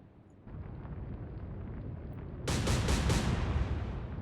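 Naval guns from warships in the Atlantic Fleet strategy game fire in a deep, booming roar that swells out of a rumbling background, with several sharp, heavy blasts clustered close together, loud and near.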